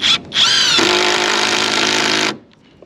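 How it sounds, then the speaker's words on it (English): Cordless drill driving a 5-inch timber screw into wood for a hunting blind, a loud, close whirring burst that bogs to a lower steady grind for about two seconds before stopping. "We drove a lot of 5-inch timber screws."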